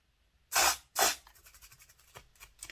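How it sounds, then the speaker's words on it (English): An aerosol can of contact cleaner fires two short, loud hissing blasts into the axle shafts of a Hornby Class 253 HST model train, then faint dripping and fizzing as the solvent settles, all close up. "get contact cleaner in these axle shafts and give them a blast out"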